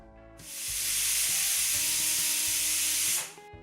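A pressure cooker of rice and sprouted matki vents a loud, steady rush of hissing steam that swells in, holds for about three seconds, then cuts off abruptly.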